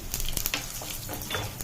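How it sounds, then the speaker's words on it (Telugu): Dried red chillies frying in hot oil for a tempering with mustard seeds, urad dal and cumin, giving a steady close sizzle with small pops and crackles throughout. "ఎండుమిరపకాయలు కూడా వేసుకుంటున్నాం అండి"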